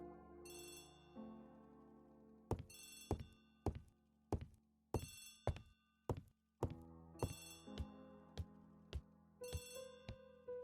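An old-fashioned telephone bell rings in repeated bursts of jangling trills, with short gaps between rings, set against a low, faint background and no talking.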